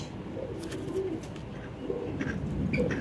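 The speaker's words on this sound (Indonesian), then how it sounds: "Ini merpati pos" A racing pigeon coos softly several times in low, throaty phrases, close by, with faint ambient noise around it.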